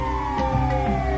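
In GTA 5, an ambulance siren sounds up close, a loud, sustained electronic wail holding steady throughout.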